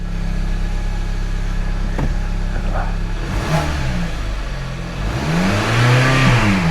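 A Hyundai i45 engine idles steadily, then is revved in a few quick rising bursts, loud and close.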